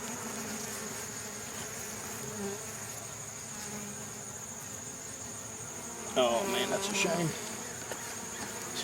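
Bees buzz steadily around a damaged beehive with a soft, continuous drone and a high whine, and a closer, louder buzz briefly swells near the end.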